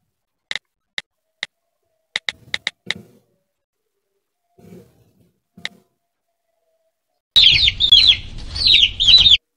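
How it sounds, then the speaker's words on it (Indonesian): A chicken sound effect: a few sharp clicks, then a loud, dense burst of clucking and peeping fills the final two seconds, alone without speech. "suara backsound ayam"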